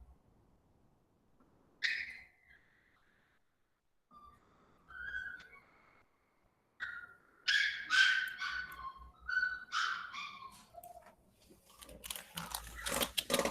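A female dog shut inside a bedroom whimpers and whines in high, thin cries, faint and sparse at first, then grows louder into a run of urgent yelps and whines, ending in a burst of sharp barking.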